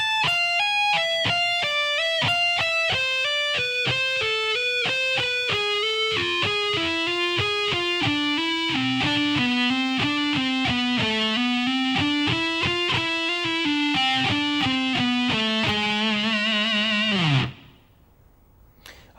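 Distorted electric guitar playing a solo lick at a slow tempo, a continuous string of sustained, evenly picked notes that climbs and falls, heard alone for about seventeen seconds before cutting off abruptly.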